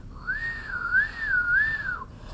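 A single person whistles a rising and falling warbling tone for about two seconds, clear and close, imitating a child's first real whistle.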